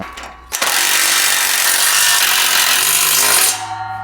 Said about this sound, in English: Go ahead and tighten that down with the 9/16 deep socket